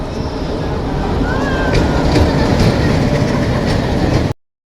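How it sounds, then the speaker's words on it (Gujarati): A meter gauge passenger train pulls out of a small rural station on the line to Veraval, its loud, steady rumble and rattling wheels continuing close by before cutting off abruptly. "આ ટ્રેન ઉપડી ગઈ છે"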